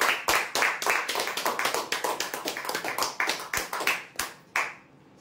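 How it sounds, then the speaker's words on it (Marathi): Prize-draw audience claps together for the winners, a brisk run of loud, close, sharp hand claps that thins out and ends with a few scattered final claps. "जोरदार टाळ्या होण्यासाठी।"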